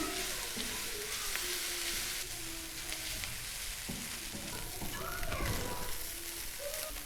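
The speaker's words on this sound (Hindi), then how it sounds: "तमाम चीज़ों को हमने चिकन के साथ अच्छी तरह भून लेना है।" Chicken frying in a pan with turmeric, black pepper and cumin over a medium flame: a steady broadband sizzle with occasional stirring scrapes, close and moderately loud, with no talking.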